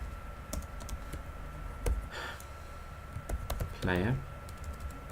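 Quick bursts of typing on a computer keyboard, close and crisp, with scattered key clicks over steady room hum while someone speaks briefly.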